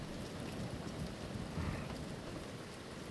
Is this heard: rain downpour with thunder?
yes